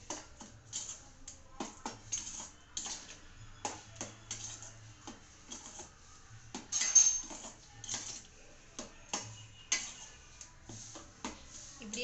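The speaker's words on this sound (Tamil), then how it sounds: "இது எல்லாத்தையும் இப்படியே மீடியம் இதில் கிண்டி விட்டே இருக்கணும்" A spoon repeatedly scrapes and taps against a pan while a sweet mixture of banana, mango and sugar is stirred, giving irregular close clinks and scrapes at low volume with occasional faint talk.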